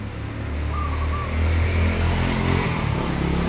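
A Suzuki Satria FU motorcycle engine that overheats runs close by with a steady low rumble, lifting briefly in a small rev partway through, and no talk over it.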